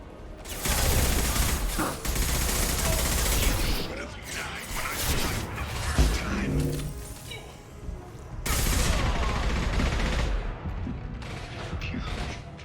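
Gunfire from the video game Mass Effect 2: loud, dense bursts of weapon fire with mechanical clatter, broken by a brief lull and then a second heavy volley, with occasional voices over it.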